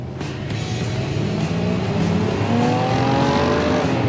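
A Cadillac Escalade with a V8 accelerates hard in a drag race, its engine note rising steadily as it gathers speed. The engine is loud and close, with a continuous, climbing roar and no talk.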